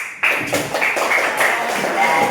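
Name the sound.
rhythmic hand clapping game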